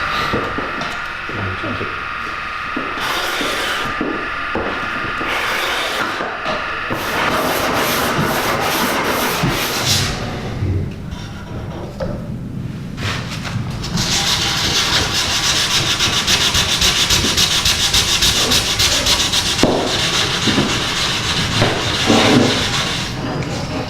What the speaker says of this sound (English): So I finished radiusing the fretboard before lunch.